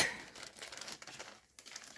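A plastic bag crinkles and rustles up close in a steady, scratchy burst, with a brief pause before the crackling resumes.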